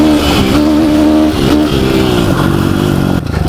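A 2016 YCF 150 SP2 pit bike engine revs loudly and continuously close by, its pitch rising and falling through several throttle blips before it drops off sharply near the end.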